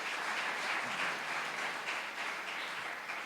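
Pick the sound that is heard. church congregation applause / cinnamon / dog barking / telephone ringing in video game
church congregation applause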